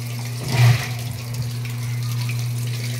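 Water rushes into a washing machine with a steady flow and a constant low motor hum, a brief louder gush near the start.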